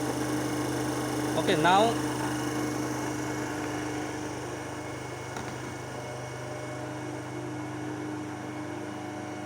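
An electric motor running near its rated 1500 rpm in a lab short-circuit fault test setup gives a steady low mains-like hum throughout, with a brief clatter and a short spoken phrase early on.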